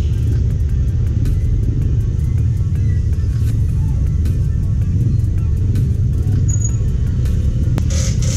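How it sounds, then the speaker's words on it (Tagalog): Road traffic passes while a motorcycle rides through a busy Philippine street, heard as a loud, continuous engine rumble and wind roar, with vehicles droning nearby. "Traffic pala dito"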